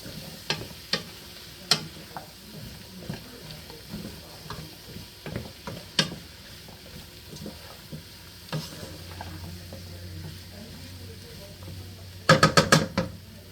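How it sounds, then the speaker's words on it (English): Flour for beef stew cooking down in a pot with olive oil, a low steady sizzle under scattered spoon clicks and scraping stirs, ending in a quick burst of rattling taps. "And then we'll cook this down so we get that raw flour taste out of it"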